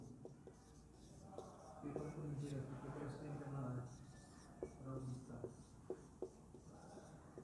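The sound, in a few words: writing on the board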